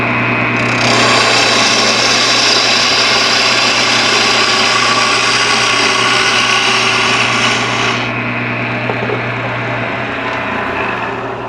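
Wood lathe spinning a piece while a tool cuts, a loud steady motor hum with a bright whooshing cutting rasp that stops partway, leaving the motor running alone.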